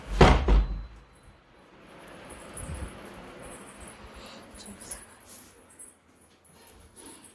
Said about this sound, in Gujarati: દરવાજો આડો કરી દઈએ.